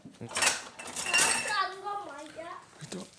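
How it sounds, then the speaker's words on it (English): A spoon stirs icing in a mixing bowl, giving a few sharp clinks and scrapes against the bowl. Voices talk over and between the stirring sounds. "Stir it up a bit more till it all goes white and fluffy"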